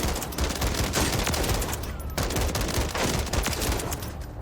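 Dense, close gunfire in the Warzone video game, a gun in single-fire mode popping off quick repeated shots in a continuous busy barrage.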